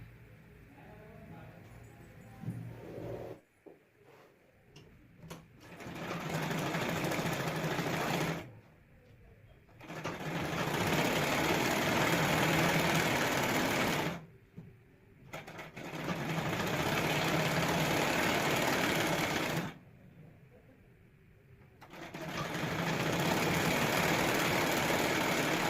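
A sewing machine stitches along the folded edge of a half-net collar blouse in three long, loud runs, with short pauses between them for repositioning the fabric.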